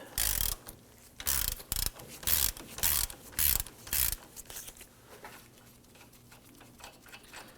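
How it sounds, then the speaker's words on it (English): Ratchet fitted with an 18mm socket loosening the hub bolts on a 2015-2020 Ford F-150 front wheel bearing assembly: several loud, close bursts of rapid clicking for about four seconds, then only faint workshop background. "We're going to go ahead and access right away using our 18mm socket here. Go ahead and start to loosen these."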